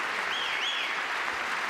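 Sustained applause from a large audience at a political address, steady dense clapping filling the whole stretch at an even level with a faint whistle rising over it.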